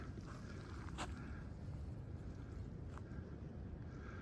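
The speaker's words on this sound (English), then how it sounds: "You can hear the wind." Steady wind blows across a cold, frozen mountain ridge on the Appalachian Trail, a continuous broadband rush with gusty texture and a couple of faint brief knocks, heard alone with no talking.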